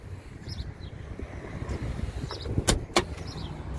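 The rear hatch of a 1982 Datsun 280ZX pops open with a sharp latch release and two quick clunks, heard up close outdoors over steady wind and ambient rumble.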